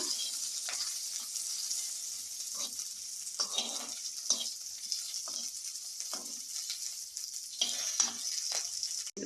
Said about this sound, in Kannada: ಉದ್ದಿನಬೇಳೆ ಸ್ವಲ್ಪ ಕೆಂಪಗಾಗೋ ತನಕ ಸ್ವಲ್ಪ ಬಾಡಿಸ್ಕೊಳ್ಳೋಣ.